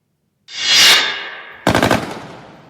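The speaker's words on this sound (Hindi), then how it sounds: "बख्तरबंद गाड़ियां, दनादन गोलियां भी बरस रही हैं।" A loud burst of automatic gunfire from soldiers riding armoured vehicles through night streets, a long rattling volley followed by a second rapid string of close, sharp shots.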